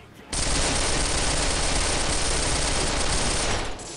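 A P90 submachine gun chambered in 5.7x28mm fires in SWAT 4, one loud continuous buzzing burst that begins abruptly and holds steady for about three seconds before cutting off.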